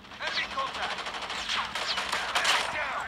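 Rapid bursts from an automatic sniper rifle in the shooter game COD Mobile crack in quick succession, mixed in with game sounds and a voice talking over the action.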